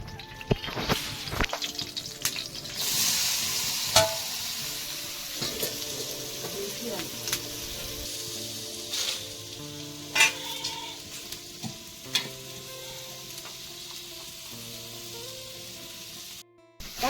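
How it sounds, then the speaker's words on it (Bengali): Potatoes fry in a home kitchen pan, giving a steady close sizzle broken by occasional scraping and stirring clinks, with water running at times. "ফার্স্টে আলু ভাজা হচ্ছে।"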